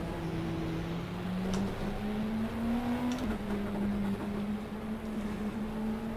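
A Toyota prototype race car engine drones in the GTR2 racing video game during a WEC 2015 race at Circuit of the Americas, a steady, slowly rising hum held at a constant loud level with faint clicks.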